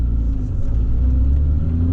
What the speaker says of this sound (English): the exhaust doesn't sound bad